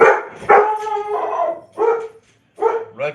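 Redford, a big dog, barks loudly and shrilly, about six close, screaming barks in an uneven series with short gaps between them.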